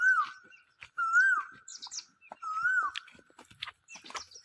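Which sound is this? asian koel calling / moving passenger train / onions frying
asian koel calling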